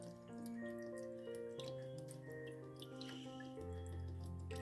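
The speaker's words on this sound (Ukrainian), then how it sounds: "І заливаємо звичайним соєвим соусом." Plain soy sauce is poured over pork belly in a pan, a quiet, continuous liquid gurgle with shifting pitch as the level rises, alone and close.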